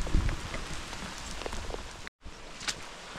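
Steady rain falls across a wild campsite at Haweswater, a dense broadband patter of drops striking nearby surfaces, continuous apart from a momentary dropout, with no voices.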